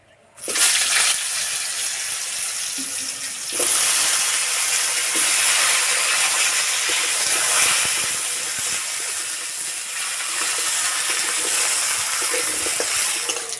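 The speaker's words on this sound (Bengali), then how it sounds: "এই তেলে কলা ভেজে নেব" Pieces of green banana dropped into hot oil, starting with a sudden loud hiss that settles into a strong steady sizzle and bubbling, close and continuous for the whole stretch.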